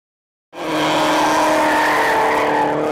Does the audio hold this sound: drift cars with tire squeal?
yes